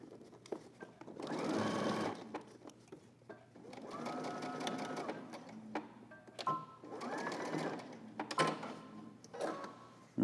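A sewing machine stitches fabric for a men's garment in several bursts, each a close, steady mechanical whir with gaps in between. A shorter run comes near the end.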